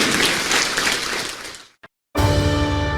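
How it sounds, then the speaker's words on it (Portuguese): A church audience gives a loud burst of applause for Jesus, dense clapping for about a second and a half, then a sudden drop to silence before music or a sustained tone comes in. "vamos dar uma salva de palmas para o Senhor Jesus"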